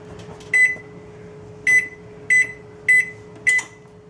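An oven being set to 350 degrees, five short electronic beeps at uneven spacing over a steady low hum, close and clear with no talking.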